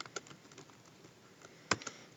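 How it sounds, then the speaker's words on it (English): Typing on a computer keyboard while entering a spreadsheet formula, with soft, irregular key clicks close by and one sharper keystroke near the end, with no talk. "we're going to start by typing concat"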